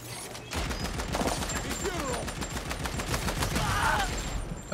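Sustained rapid gunfire from the video game The Ascent pours out in dense, continuous volleys for the whole stretch, steady and loud with a constant clatter of shots.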